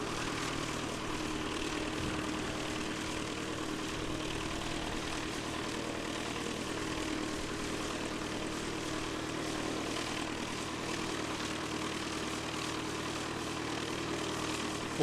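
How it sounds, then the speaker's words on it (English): A Jetstar Airbus A320 airliner approaching Christchurch Airport in New Zealand, heard as a steady, continuous broadband engine roar with a low droning hum that holds at an even level for the whole stretch, with no talking. "We'll just let the Jetstar A320 get a bit closer before we spin around and try and pick it up."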